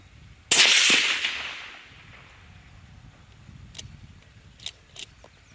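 A single suppressed gunshot through a Hydrogen L 9-inch suppressor, fired outdoors toward a hillside with a steel plate at 100 yards: one sharp, loud crack with a decaying tail, followed by faint distant impact ticks.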